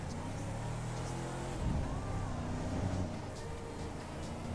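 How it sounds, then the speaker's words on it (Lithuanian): A car drives past in the FiveM multiplayer roleplay mod of GTA, a steady mid-level engine drone that swells slightly as it passes and carries on over continuous game background noise. "Na, važiuoja mašina, reikia susitvarkyti."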